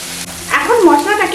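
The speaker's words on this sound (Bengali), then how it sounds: "এখন মশলাটাকে এইভাবে 1 মিনিটের মতো নাড়াচাড়া করে ভেজে নিচ্ছি।" Spice masala of ginger-garlic paste, turmeric and chilli powder sizzles in a pan while being stirred, a short burst of close frying crackle with faint scraping, for a raw banana curry.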